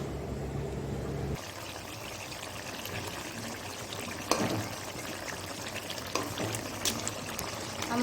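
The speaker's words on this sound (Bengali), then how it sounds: "এবার আমি জল ঢেলে দেবো।" Water poured into a cooking pot of fish and vegetable curry, a steady pouring and trickling stream that begins with a louder splash, then settles into continuous liquid noise with a few small clinks, heard alone without talk.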